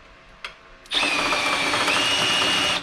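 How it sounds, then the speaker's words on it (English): A power drill bores into a milling machine part for a Z axis knee gear modification: a brief tap, then the motor spins up sharply into a loud, steady whine that holds to the end. "Let's go ahead and start the drilling."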